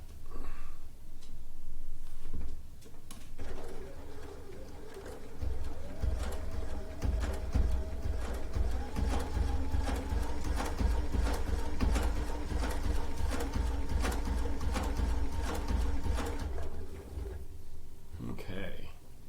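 A sewing machine runs steadily through a rag quilt, a continuous mechanical whir with rapid needle ticking and a low motor hum, starting and stopping near the ends of the stretch.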